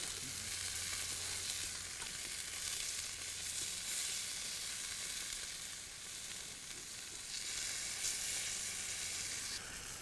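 Meat frying in a pan for fried meat and gravy, a steady bright sizzle with crackling spits rising and falling, close and continuous, with no voices.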